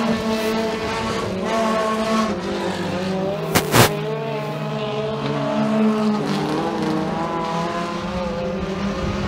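Race cars roar around a dirt oval during a Bandit feature at Genesee Speedway, with loud, sustained engine drone that rises and falls as cars pass, and a sharp bang or clack briefly cutting through near the middle.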